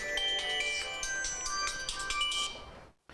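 A telephone ringtone sounds for an incoming call, a bright repeating electronic melody of tonal notes playing steadily and close for about three seconds before cutting off abruptly.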